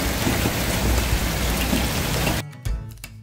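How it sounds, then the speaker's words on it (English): Heavy morning rain pours down outdoors near the site of an off-grid chicken coop, a dense, steady roar for over two seconds before cutting to quieter scattered drips and thuds. "I'll show you just how much it's raining this morning."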